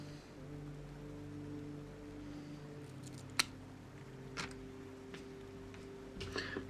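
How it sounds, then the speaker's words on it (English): Thin FPV drone motor wires are snipped with a cutting tool, giving a few faint, sharp clicks spaced apart over a quiet background hum. "So now all 3 wires are cut and ready to be stripped."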